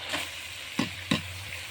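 Small puti fish go into a pan of frying spice paste for a raw mango chorchori: a steady sizzle with two soft thuds as the fish land, close and without talk.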